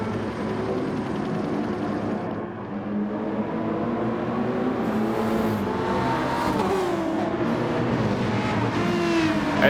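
Racing-game cars pulling away at a league race start: several engines revving and whining up through the gears, overlapping pitch sweeps rising and falling, with a steady loud roar throughout and no voices.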